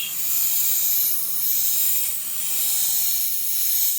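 An airbrush sprays paint onto a pastel sunrise painting with a continuous airy hiss that swells and eases slightly, steady and close, with no talk.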